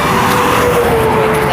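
A big truck driving by on a road, a steady broad roar of engine and tire noise, loud and close, filling the short stretch with no talk.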